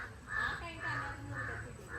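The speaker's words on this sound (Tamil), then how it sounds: "காக்காங்க தான் உடனே கத்துறாங்க." Several crows caw in repeated harsh calls, roughly four bursts in two seconds, fairly close outdoors near a Valli Kummi dance gathering, with faint background murmur.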